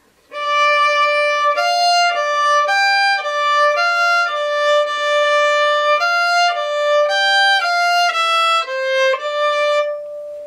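A solo fiddle plays the recurring phrase from the tune Farewell to Chernobyl, a clear, close melodic line of bowed notes moving in an even rhythm with no talking.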